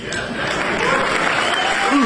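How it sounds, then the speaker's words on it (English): A crowd at a political rally applauds, a broad steady wash of clapping that swells slightly as it goes, heard at a distance with a voice briefly over it. "And you get an applause for that?"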